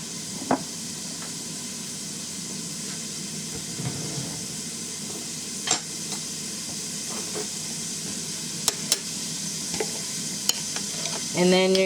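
Chopped onion sizzles steadily in a hot pan for a low-carb Nicaraguan-style shrimp chop suey, with a constant frying hiss broken by occasional sharp clicks and scrapes of a utensil against the pan.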